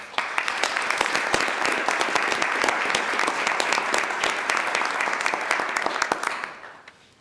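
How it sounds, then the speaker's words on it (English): A board meeting audience gives a round of applause for 450 volunteer firemen, dense sustained clapping from a large room filling about seven seconds before tapering off at the end. "give those 450 volunteer firemen a round of applause"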